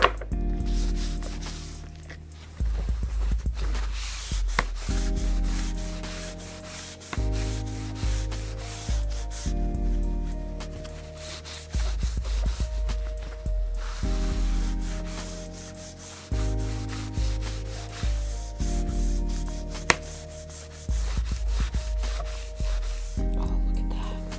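Hand rubbing on material for a leash, a steady run of repeated back-and-forth strokes in rhythmic bursts, close and fairly loud, with no talking.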